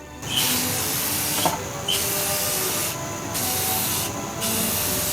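Spray paint hissing onto a South Park-themed motorcycle helmet in steady, sustained bursts with brief pauses between passes, close and loud throughout.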